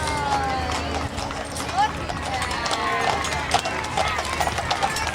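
Patty the horse's hooves clip-clop on the road as she pulls a 1996 Warner Wagon Works spring wagon in an old-fashioned Christmas parade, the steady strikes mixed into a busy crowd and street murmur.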